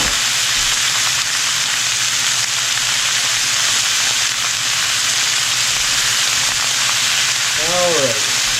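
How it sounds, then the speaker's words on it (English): Steak bites frying in a hot skillet, a loud steady sizzle and hiss close up that holds throughout, with a faint voice in the background. "And then we'll throw it in our hot skillet and we'll go from there."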